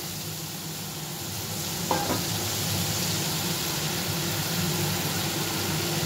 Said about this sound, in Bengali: আমি মশলাটা দিয়ে দিলাম। একটু মশলাটা কষিয়ে নিই।